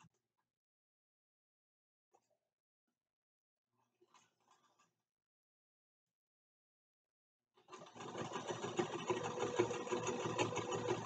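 A sewing machine runs a back stitch over elastic while making mug rugs and lanyards. It sits silent with a few faint clicks at first, then starts up near the end with a steady, close mechanical whir.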